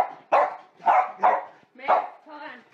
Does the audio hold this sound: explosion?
no